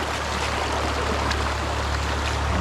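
A rain-swollen creek runs high past the bank, giving a steady, dense rushing of water that stays close and even for the whole stretch, with no voices.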